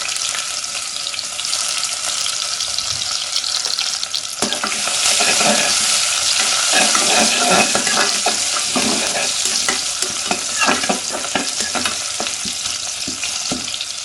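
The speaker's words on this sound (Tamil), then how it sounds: "இது எண்ணெயில் சேர்த்து லோ ஃப்ளேமில் பொரிச்சிடலாம்" Crushed ginger and garlic fry in oil over a low flame for a Chettinad crab masala, giving a steady close hiss that swells louder partway through, with scattered scraping stirs and no talking.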